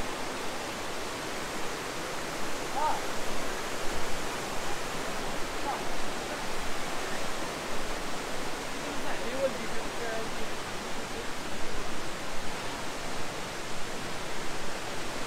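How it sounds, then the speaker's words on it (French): A waterfall in the High Atlas mountains of Morocco roars in a constant, full wash of rushing water, loud and unbroken throughout. "nous voilà arrivés à la cascade"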